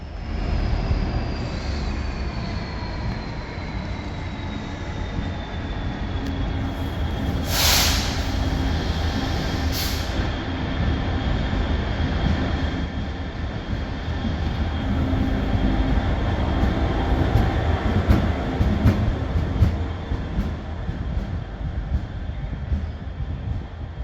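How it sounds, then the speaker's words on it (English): A Class 66 diesel locomotive rumbles past at Crewe for a long, sustained stretch, its heavy low engine drone and rolling wagons steady and close, with a couple of brief high squeals partway through. "Class 66 rumbles on by."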